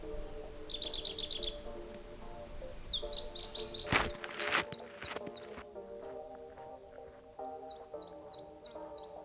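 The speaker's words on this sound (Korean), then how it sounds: "새소리도 너무 좋아." Birds singing outdoors on a sunny, windless day on Seonjaryeong ridge in Korea. Repeated bright chirping phrases come from nearby, a sharp knock sounds partway through, and there is no speech.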